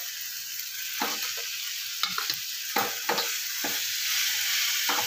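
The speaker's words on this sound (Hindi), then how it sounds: "थोड़ा सा बस टमाटर के साथ हम उलट पुलट देंगे" Potatoes and tomatoes sizzle steadily in a pan while being turned and stirred, with several scraping strokes across a constant frying hiss and no talk.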